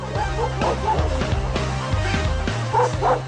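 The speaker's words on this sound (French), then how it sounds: "les filas sont traditionnellement utilisés comme chiens de garde" Fila de São Miguel guard dogs on a farm bark, yip and whimper in quick, overlapping bursts. The sound is loud and close, with a low rumble running underneath.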